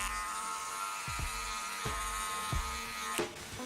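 Electric hair clipper fitted with a number 1 guard, lever closed, running with a steady close buzz throughout, a few soft bumps as it moves through hair during a bald fade haircut.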